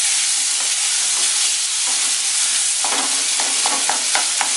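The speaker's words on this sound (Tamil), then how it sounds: "நல்லா ஒரு மிக்ஸ் கொடுத்துக்கலாம்." Roasted brinjal chutney with tamarind is stirred in a hot pan, giving a steady close sizzle and a run of quick scraping strokes toward the end.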